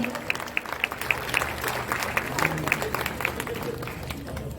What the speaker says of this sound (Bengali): জোরে হাততালি ওনার জন্যে